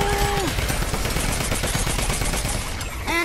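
Rapid bursts of automatic gunfire in a zombie video game crackle loudly and continuously, with a brief rising electronic tone at the start and another near the end.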